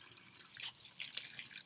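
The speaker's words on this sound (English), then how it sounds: "I got my water running" Water from a garden hose runs into a house rain gutter, a soft trickling and splashing that rises and falls faintly, with no voices.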